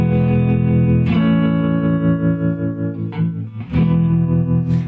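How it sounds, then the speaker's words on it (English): Stratocaster electric guitar strummed through a few chords with built-in vibrato and reverb, sustained ringing tones swelling and wavering, loud and close, heard alone. "I'm going to play a little guitar and we'll get out of here."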